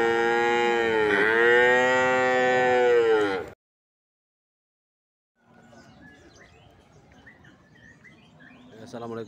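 A pregnant Simmental PO breeding cow at a livestock market gives one long, loud, close moo, followed after a pause by quieter market noise with faint bird chirps.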